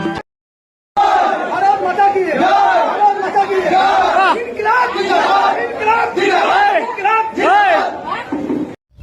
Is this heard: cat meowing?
no